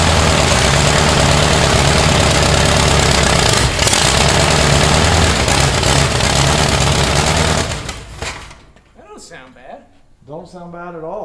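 A demolition derby car's engine runs loud and rough at a steady idle for about eight seconds, then drops away as people start talking nearby.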